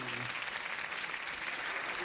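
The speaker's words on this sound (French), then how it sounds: "On applaudit Oudin le magicien." Audience applause for a magician's stage trick, a steady, fairly faint wash of clapping heard from a distance throughout.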